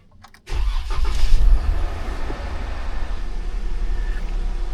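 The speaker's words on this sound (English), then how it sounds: "let's go ahead and start the vehicle up." A car engine cranks and fires into a loud start, then settles into a steady, close idle rumble that continues for several seconds.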